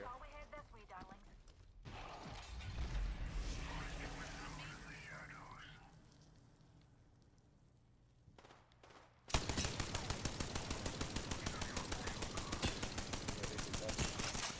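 Rapid automatic gunfire in a video game match erupts loud and close in the second half, a steady string of shots following quieter ambience and murmured voices earlier on.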